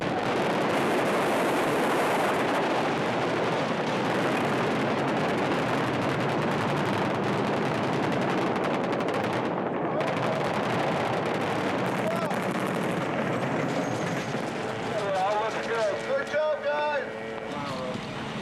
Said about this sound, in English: Even though it wasn't a real explosion, it certainly created the effect.